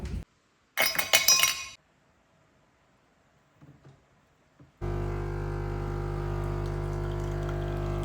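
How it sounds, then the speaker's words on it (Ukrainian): Ice cubes clatter brightly into a glass while iced coffee with salted caramel is made. The clinking lasts about a second, followed by quiet handling and then a steady machine hum. "Взяла лід, беру солену карамель, беру стакан."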